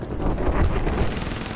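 Rapid bursts of gunfire in a shooter video game, loud dense crackling shots fired in quick succession across most of the clip, with no talk over it.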